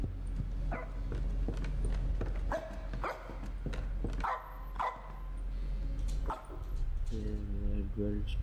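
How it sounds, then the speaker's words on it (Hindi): A dog barks repeatedly in the horror game Supernatural, sharp yips and whimpers coming in uneven bursts over a low droning ambience, with a person talking over parts of it. "दोबारा भौंक रहा है।"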